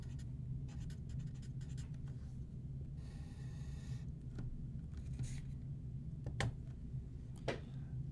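Pen writing out units by hand while working a chemistry calculation, with soft scratchy strokes in short bursts and brief pauses, close and quiet.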